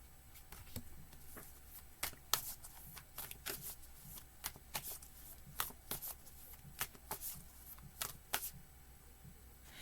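Blank cards being shuffled for a card reading: quiet, close riffles and snaps repeating in an irregular rhythm, each a crisp burst of rustling paper with short pauses between.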